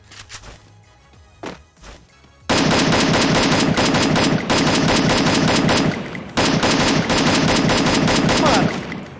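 Loud, rapid automatic gunfire from the video game Free Fire, sustained bursts of shots after a few quieter pops, with a brief pause midway before firing resumes.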